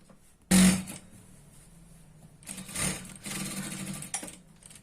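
A sewing machine stitches the folded hem of a churidar pant for a Punjabi dress, with one short loud burst of running near the start and a longer, steadier stretch of stitching later, close up and alone.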